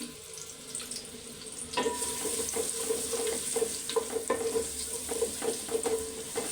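Chopped onions frying in ghee with bay leaves, cardamom and cinnamon: a steady sizzle with stirring scrapes and clinks of a spatula against the pan, close and moderately quiet, no talking.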